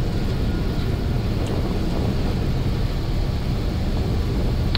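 Egyptair Airbus A330-200 climbing out of Kuwait City after takeoff as the gear retracts, a steady, loud broadband roar of engines and airflow filling the cabin without letup.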